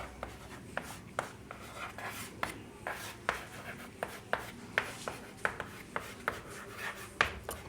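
Pen writing on paper during a maths lesson, a steady run of small scratchy taps and strokes at close range, quiet and rhythmic, with no voice over them.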